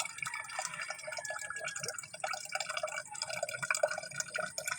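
Water drips and trickles steadily, a bright wet patter with small splashes, fairly close, with no talking.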